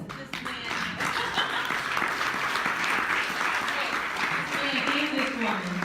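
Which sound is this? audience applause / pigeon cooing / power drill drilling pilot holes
audience applause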